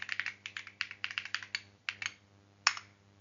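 Keys on a computer keyboard are tapped in a quick, uneven burst of about a dozen crisp clicks, then a short pause and a single firmer final keystroke, close and fairly quiet against a low hum.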